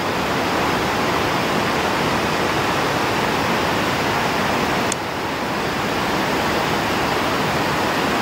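The Sardu river, a mountain stream, rushes in a dense, loud, unbroken roar of flowing water, steady throughout with only a brief dip midway and no voices.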